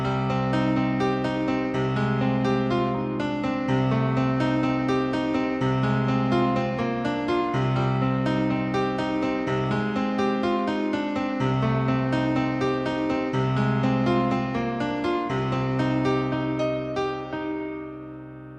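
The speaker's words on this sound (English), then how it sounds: "This next patch is a piano patch" Guitar played through a piano patch on a Roland GR-55 guitar synth, giving a steady flow of sustained, ringing notes and chords that stay close and even in level, then fade at the end; no voices.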